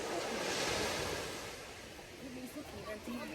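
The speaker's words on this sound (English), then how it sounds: "so I'm at the beach with my sis" Ocean waves wash onto a beach with a steady broad surf roar, loudest early and then easing, while wind buffets the microphone and a voice talks faintly under it.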